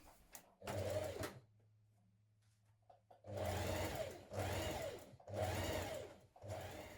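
Home sewing machine running a stretch stitch on sweatshirt fabric, heard in short bursts: one quick run, a quiet pause, then several steady runs of rhythmic needle whir, close and fairly soft.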